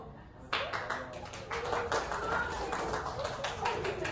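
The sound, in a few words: group clapping performance (tepuk)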